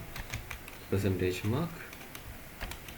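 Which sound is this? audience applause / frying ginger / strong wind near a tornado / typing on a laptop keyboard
typing on a laptop keyboard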